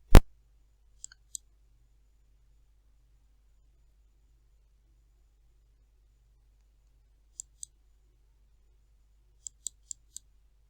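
A sharp computer mouse click opens the stretch, followed by scattered pairs and clusters of light, faint clicks spaced across a near-silent background while using the Quillbot paraphrasing tool.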